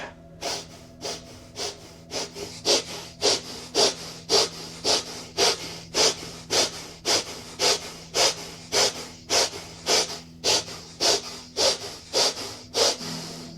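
Deep, steady breathing during a seated yoga session for stress relief, around twenty even breaths in a regular rhythm, close and clear over a faint constant hum, with no talking.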